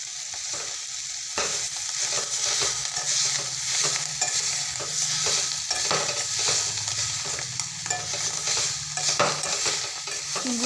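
Cowpea (chavli) vegetable cooking in a pan, with a steady sizzle and frying hiss throughout and repeated scraping stir strokes of a spoon against the pan, close and continuous.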